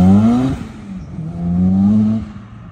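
Turbocharged Honda S2000 engine running under boost, a steady, fairly quiet hum that swells for about a second and a half midway, then eases off, with no talk over it.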